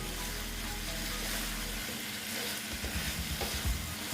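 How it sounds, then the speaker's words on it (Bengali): Ridge gourd (chichinga) being sautéed in a pan, a steady close sizzle with scraping stir strokes growing more rhythmic toward the end, no voices. "দেখো ভালো মতন আমি কষিয়ে নিচ্ছি একটুটাই"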